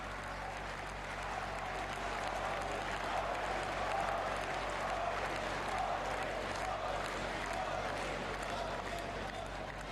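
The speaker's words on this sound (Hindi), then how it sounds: "तालियों की गड़गड़ाहट के साथ उनके विशेष संबोधन के लिए हार्दिक स्वागत करें" A large audience applauds to welcome Prime Minister Narendra Modi at a project inauguration event in Gujarat, with broad, sustained clapping across the whole stretch at a distant, even level and faint talk mixed in.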